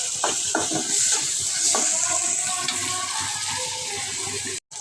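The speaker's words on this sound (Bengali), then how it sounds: "পেঁয়াজ কাঁচামরিচ বাজিয়ে নিচ্ছি" Onion and green chillies fry in a pan for a home-cooked fish curry masala, giving a steady, close, watery sizzle with brief stirring scrapes throughout and no talking.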